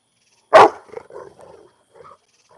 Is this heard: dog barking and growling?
yes